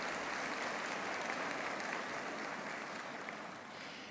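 Audience at a university faculty's autumn graduation ceremony applauding, a steady distant wash of clapping that fades slightly toward the end.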